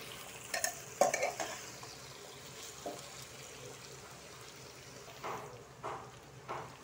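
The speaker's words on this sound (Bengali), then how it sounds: "এখন আলুটার সাথে একটু ভাজবো।" Young jackfruit, parboiled and rubbed with salt and turmeric, frying with potatoes, a faint low sizzle under a few clattering utensil knocks and stirring scrapes.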